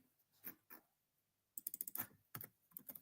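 A computer keyboard is typed on in quick bursts of close, crisp key clicks, a couple of taps and then a rapid flurry, with no talk over them.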